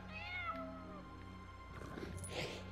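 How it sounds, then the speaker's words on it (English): Cat meowing in the LEGO The Incredibles video game, a drawn-out wavering meow followed by a rougher, noisier yowl, fairly quiet over a low steady background hum, with no talk. "Is that a cat?"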